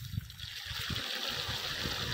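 Water steadily trickling and splashing as it drains from a large degh pot of boiled rice for sweet zarda, a continuous close gurgling stream with no voices.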